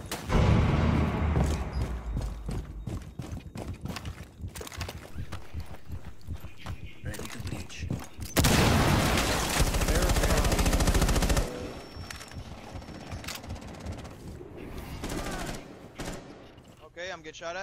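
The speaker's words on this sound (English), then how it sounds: "I'm getting shot at, bottom stairs" Gunfire in Rainbow Six Siege, bursts of loud close shots mixed with footsteps, impacts and a very loud sustained stretch of firing or explosion noise midway, with players talking over it.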